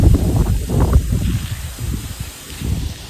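Strong wind gusting through a village in Botad during light rainy weather, rough low buffeting that rises and falls steadily across the whole stretch, with no voices.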